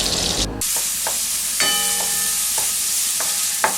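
Finely chopped onion sizzling in melted butter and oil for pav bhaji, a bright steady frying hiss broken by several clinks and scrapes of a spoon stirring in the pan.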